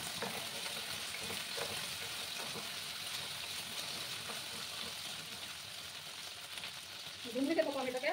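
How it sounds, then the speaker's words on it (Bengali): Taro (gathi kochu) pieces frying in hot oil give a steady, close, even sizzle that holds for several seconds, growing a little louder and busier near the end. "2 মিনিটের মতো আমি এটাকে ভাজবো"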